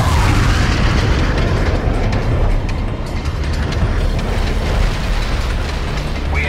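Rumbling explosion in the World in Conflict war strategy game, a dense, loud low-frequency roar with crackling debris sustained steadily throughout, no speech over it.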